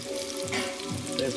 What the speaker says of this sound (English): That chicken in that frying grease.